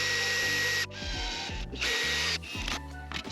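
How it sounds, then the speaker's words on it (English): Cordless drill driving a screw into a drawer slide inside a Ford Transit van cabinet build, several short whirring bursts with pauses between, close and fairly loud, each run ending in a brief tightening rattle. "I just drill it in"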